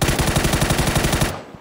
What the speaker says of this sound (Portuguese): tô tomando tiro das costas